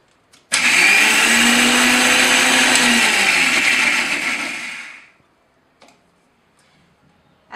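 A blender whirs loudly and steadily for about four and a half seconds while it grinds rice into a coarse powder for phirni, then spins down and stops. A few faint clicks and small knocks follow.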